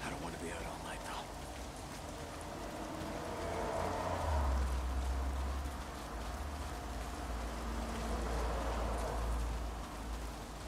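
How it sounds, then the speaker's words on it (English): Steady rain hisses as a continuous wash in the Days Gone video game, a broad, even patter that runs the whole stretch alongside low rumbling game ambience and some quiet background voice activity. "A lot of it's pissing down rain."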